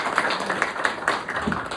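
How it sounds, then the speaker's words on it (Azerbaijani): Crowd applause rings out at a ceremony honoring Azerbaijani Muay Thai athletes who won at the Islamic Games: a dense, steady patter of clapping hands that stays fairly loud and even for the whole stretch, with no clear pauses. "Gəlin biz İslam oyunlarında olan qaliblərimizi bir alqışlayaq."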